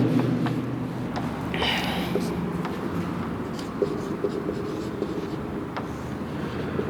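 Notes are written on a board during a lecture on the female reproductive system, with repeated rubbing and scratching strokes sounding close and moderately loud against a steady room hum.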